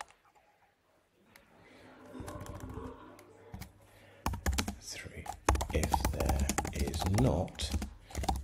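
Quick clicking keystrokes on a computer keyboard, close and fairly quiet, in fast irregular runs that grow busier toward the end.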